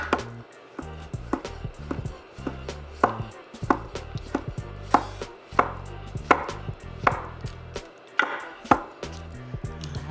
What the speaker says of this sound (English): go ahead and get our mushrooms chopped up